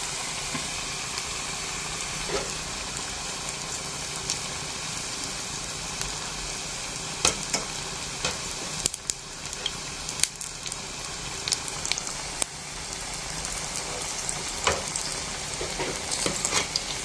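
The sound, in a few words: aloo tikki shallow frying in a pan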